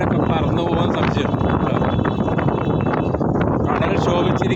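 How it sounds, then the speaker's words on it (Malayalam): Strong wind at the Dhanushkodi seashore blasts the microphone in a loud, continuous roar with rough buffeting gusts that never let up. "കാറ്റ് കൊണ്ട് ഇവിടെ നിൽക്കാൻ പറ്റുന്നില്ല, അതുമാതിരി കാറ്റ്"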